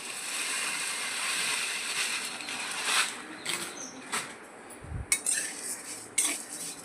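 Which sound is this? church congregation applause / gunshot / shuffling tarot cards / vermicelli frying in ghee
vermicelli frying in ghee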